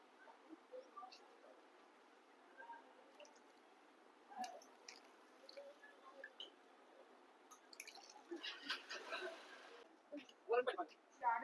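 A smartphone dipped into a cold drink for a water resistance test, with faint scattered drips, squishes and fizzing crackles that grow busier toward the end, while a voice talks quietly in the background.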